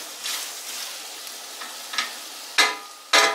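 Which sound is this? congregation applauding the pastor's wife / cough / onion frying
onion frying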